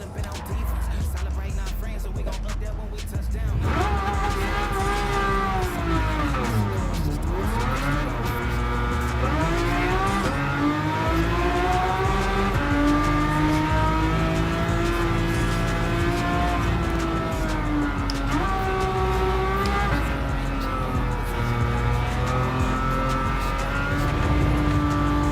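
Road car in Gran Turismo 7 accelerating through its gears with a revised gearbox setup, engine note climbing steadily with rising and falling pitch sweeps at each shift, loud and continuous throughout.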